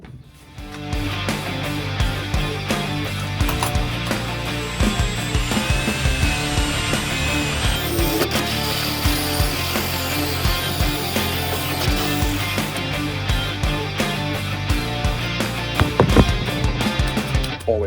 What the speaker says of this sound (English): Always scary drilling through a roof panel.